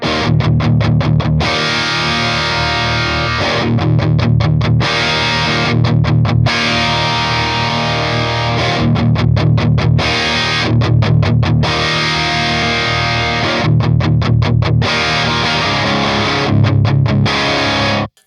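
High-gain electric guitar chugs through the first gain channel of an amp, with tight, heavily distorted palm-muted riffs in repeating bursts separated by brief pauses, loud and close with no talking.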